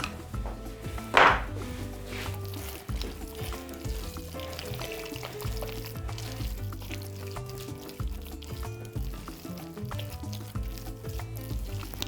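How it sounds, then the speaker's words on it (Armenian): Salt from the Maranik brand being added to beef ribs as they cook, with frying sizzle, scraping and clinks of kitchen utensils over several seconds and one brief louder pour-like burst near the start. "Ավելացնում ենք Մարանիկ ընկերության աղ"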